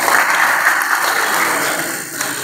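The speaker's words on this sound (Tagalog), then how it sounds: "Palakpak ato Ginoo." Congregation applauding in St. Francis de Assisi Parish church in Manjuyod during a talk on the Bible, a steady wash of clapping lasting throughout without pause, fairly loud and close.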